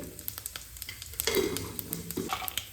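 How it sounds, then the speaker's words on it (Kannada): Mustard seeds and cumin sizzling in hot oil in a pan, with quick popping crackles and a short burst of louder sizzle, heard close and alone. "ಒಂದು ಬಾಣಲೆಗೆ ಫಸ್ಟ್ ಒಂದು ಸ್ವಲ್ಪ ಎಣ್ಣೆ ಕಾಯ್ತಿದ್ದಂಗೆ ಒಂದು ಸ್ವಲ್ಪ ಸಾಸಿವೆ ಹಾಕ್ತಿದ್ದಂಗೆ ಸ್ವಲ್ಪ ಜೀರಿಗೆ"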